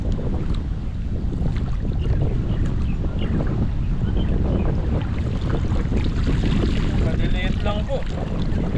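Steady wind roars across the open deck of a small fishing boat at sea, a constant loud rush with buffeting gusts and faint water movement, and a brief whistling tone near the end.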